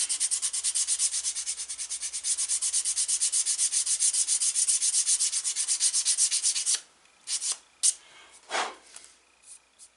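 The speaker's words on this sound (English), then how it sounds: "But who wants to watch me sand all this crap?" Leather edges are sanded by hand with a rapid, rhythmic back-and-forth rasp of even strokes, close and loud for about seven seconds, then a few scattered rubs and handling noises.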